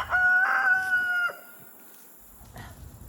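A rooster crows loudly and close in a garden, one drawn-out call followed by a short cluck-like noise as the farm fowl settle.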